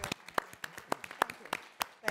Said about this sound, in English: I think we owe her a round of applause for this